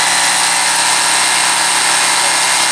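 A power drill drills steadily and loudly without a break, a constant high whirring hum close by.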